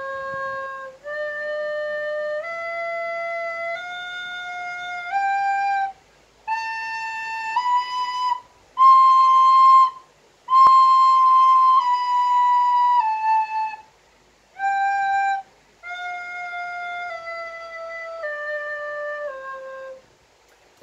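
Recorder played with every hole covered, producing a sequence of clear, steady sustained notes that step through a simple melody, with short pauses between phrases, loud and close with no talking.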